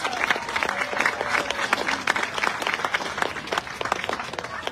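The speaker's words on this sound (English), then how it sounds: "Please give Keelan a big round of applause." Applause from an audience at a neighborhood awards ceremony, individual claps distinct and sharp within a lively burst of clapping that holds steady for a few seconds.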